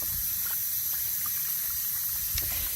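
A hose sprays water steadily against a Freightliner truck during washing, a constant close hiss and gush with a few faint spatters and no talking.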